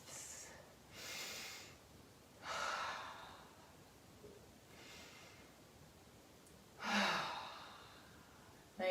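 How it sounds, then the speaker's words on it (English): Slow, deep yoga breaths during a calming session, several soft audible inhales and exhales spaced a couple of seconds apart, close and quiet. "Let's take 2 letting go breaths."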